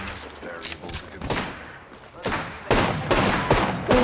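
Gunfire in Apex Legends, a video game, arriving as scattered sharp bursts that build into a louder, denser volley in the final second and a half, with a voice faintly underneath.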